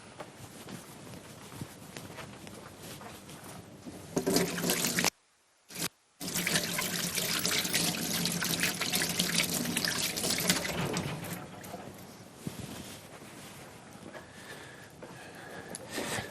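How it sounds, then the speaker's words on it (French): Running tap water splashes while hands are washed at a kitchen sink during Christmas biscuit baking, a steady rushing flow cut off by two short pauses, close and alone. "Je vais juste me laver les mains et j'arrive tout de suite."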